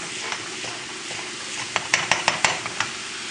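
Garlic frying in oil in a hot wok, a steady sizzle with several sharp metallic clinks of a utensil stirring against the pan toward the end.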